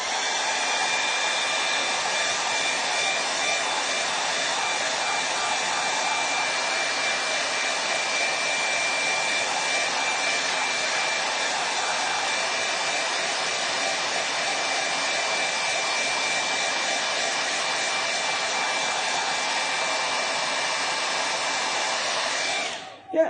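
A hair dryer blows steadily and loudly to dry acrylic paint on a canvas, running as one unbroken whoosh for over twenty seconds before it cuts off at the end.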